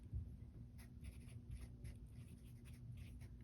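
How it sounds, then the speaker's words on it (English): A Sharpie marker writes on a folded strip of tape at a tie-dye session, giving soft, steady scratchy strokes up close over a low background hum, with no talking. "I'm gonna use a Sharpie. And you're gonna write your name"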